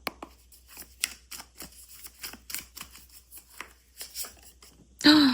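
Tarot cards being shuffled by hand to draw an advice card: a rapid irregular series of crisp, close riffling and slapping clicks, ending with a brief louder burst.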